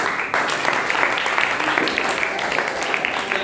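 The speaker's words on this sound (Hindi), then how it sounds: "ताली बजा दीजिए" A crowd at a religious discourse gathering breaks into sustained applause, dense clapping continuing steadily from start to end with no lull.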